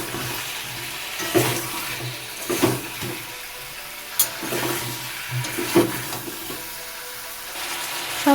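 Paneer and cauliflower with potatoes and spices stirred in a pan for a vegetarian gobi paneer curry, giving a steady hissing sizzle with spatula scrapes and knocks at irregular intervals.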